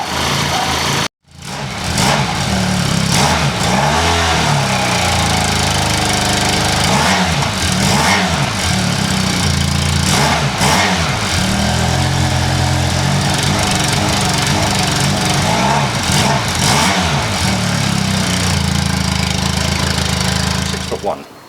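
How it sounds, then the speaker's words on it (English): A Benelli TRK502 X twin-cylinder motorcycle engine of 47 brake horsepower runs steadily and loudly close by after a brief gap, holding a throbbing drone with slight rises in pitch, alone without talk. "the engine does have a nice note. It is twin cylinder, 47 brake horsepower"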